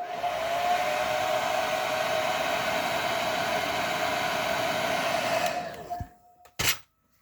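A heat gun blows hot air onto a McFarlane Toys action figure joint, a steady loud whooshing hiss with a constant whine that runs for several seconds before cutting off, followed by a brief click.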